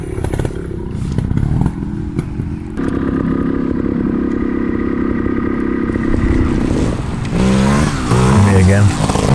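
A trials motorcycle rides a course, its engine droning steadily and loudly with a rising rev toward the end, while people talk over it.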